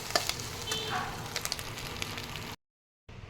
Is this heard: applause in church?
no